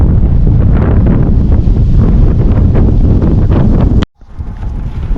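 Strong wind buffets the microphone on a hilltop at Phu Ta Yong, a loud, steady rumbling roar that cuts out abruptly near the end before picking back up more softly.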